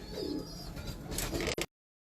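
Teddy pigeons in a loft give a soft, low coo, close and steady, with a brief louder rustle near the end before it cuts off.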